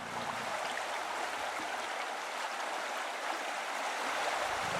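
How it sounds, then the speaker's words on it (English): A swollen Yellowstone river in spring flows in a steady, loud broadband rush of water, constant throughout with no voices present. "they have to cross the swollen river"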